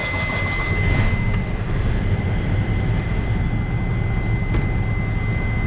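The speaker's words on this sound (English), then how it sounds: "I'm going to start up the engine." A truck's engine idles steadily after start-up, a loud, continuous low rumble with a constant whine on top and no talk over it.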